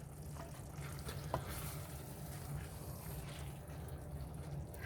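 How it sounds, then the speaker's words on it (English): Chorizo fries in onion and meat stock with a steady, soft sizzle and bubbling, a quiet continuous crackle with an occasional small pop. "basically you're frying them in onion and meat stock"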